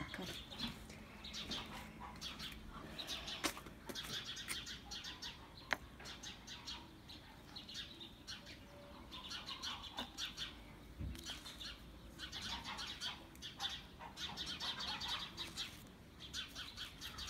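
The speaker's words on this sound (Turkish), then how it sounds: "Ne güzel kuşlar, cıvıl cıvıl ya." Birds chirp and tweet continuously outdoors during a garden session of repotting plants. Many quick, fairly faint calls overlap against a low background murmur.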